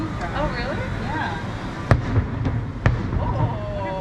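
A nighttime fireworks show seen from a hotel, two distinct distant booms a second apart over steady chatter from people nearby.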